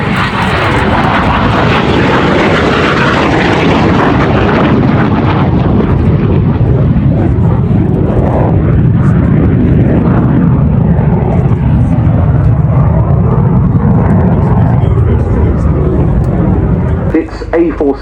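A MiG-17 jet fighter flies at the Duxford summer airshow, a loud, sustained roaring jet engine rumble that swells and slowly shifts as it passes, with a commentator's voice talking over it.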